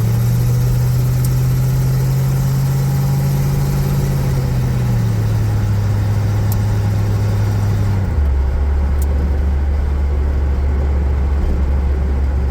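1936 Chevy truck engine running close up, a loud steady hum that drops in pitch in two steps as the revs settle to a low idle drone.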